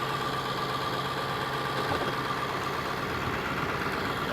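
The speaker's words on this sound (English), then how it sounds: "But the engine's running." A flood-damaged Chevrolet Silverado truck engine idles in a steady, even drone with a faint hum, running alone without voices throughout.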